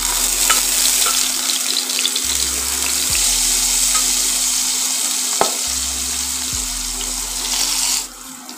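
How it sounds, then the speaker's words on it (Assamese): Marinated ash gourd pieces fry in hot mustard oil in a pan with a loud, steady, crackling sizzle. A low hum sits underneath, and a few soft knocks sound during cooking. "আৰু এইখিনি মই এতিয়া ফ্ৰাই কৰি ল'ম।"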